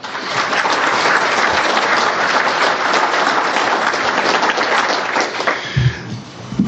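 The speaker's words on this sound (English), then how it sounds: "let's show our appreciation and a round of applause for all of the candidates that are running this evening" Sustained applause from the audience at a farm bureau candidate forum, a thick steady patter of many hands that fades near the end, leaving a few low bumps and room noise.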